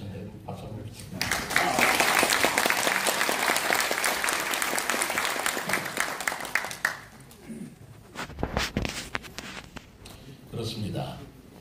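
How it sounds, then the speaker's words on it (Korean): An audience at a seminar on completing the administrative capital of Sejong applauds the professors, dense clapping for about six seconds that thins into scattered claps, with voices speaking briefly toward the end. "우리 청아람들 교수님 박수 한번 주십니다"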